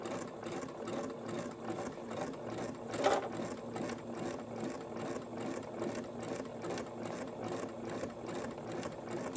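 A sewing machine fitted with a hemming presser foot stitches a fabric hem at low speed, giving a steady, close mechanical whir and rapid needle chatter that runs evenly throughout with no talking.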